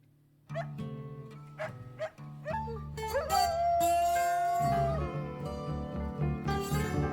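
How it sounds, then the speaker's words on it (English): A dog barks, yips and whimpers over the piano and bass of a song, its whining cries rising and sliding against the music, close and clear with no talking. "we got some actual live dog recordings on this"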